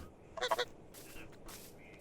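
Geese honking in Minecraft, a quick cluster of three or four nasal honks from one goose, moderately loud and alone, with fainter game ambience after.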